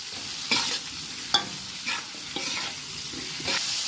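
Chayote and red, green and bird's-eye chilies sauté in a hot pan with a steady sizzle, broken by several sharp scrapes and stirs of a spoon against the pan; no talking.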